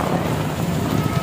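Steady, dense rain pouring close by at an outdoor drum band championship, a continuous loud wash of drops with no voices.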